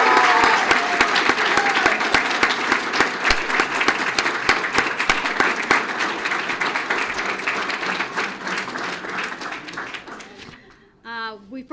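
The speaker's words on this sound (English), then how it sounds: "Let's give him a round of applause." An audience applauds at a police promotional ceremony for a newly promoted lieutenant, with sustained loud clapping that slowly thins and fades near the end, when a voice begins speaking.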